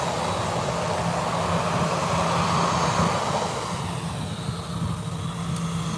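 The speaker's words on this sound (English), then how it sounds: "It's Lufthansa A320" Lufthansa A320 airliner at Birmingham airport, a steady loud jet engine roar that holds, then eases slightly toward the end.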